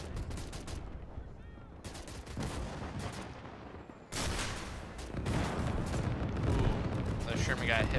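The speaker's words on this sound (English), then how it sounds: "Americans are gonna start with 105 artillery barrages" A 105 artillery barrage against German lines in Gates of Hell: Ostfront, WWII Siegfried Line battle: dense, continuous rumbling explosions and booming impacts, some closer and louder, rolling over each other without pause.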